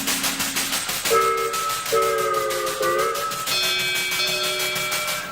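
A steam train whistle sounds in sustained, shifting tones over a steady rhythmic chugging that pulses throughout.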